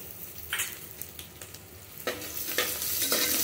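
A tablespoon of ginger garlic paste fries in a pan after whole spices. A soft, steady sizzle runs throughout, with several bursts of stirring scrapes that grow louder toward the end, close up and with no talking.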